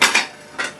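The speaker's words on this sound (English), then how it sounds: "Don't know if it'll do it with these tongs." Metal tongs clacking against a pan while handling crispy air-fried boneless skin-on chicken thighs, two quick close clinks followed by a third a moment later.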